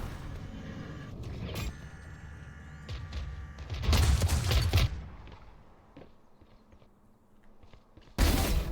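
A video game gunshot lands as a headshot: sharp, loud bursts stand out over quieter background effects, one near the middle and another at the very end.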